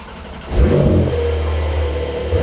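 A convertible car engine starts up and settles into a deep, steady revving rumble, close by and loud, with no talking.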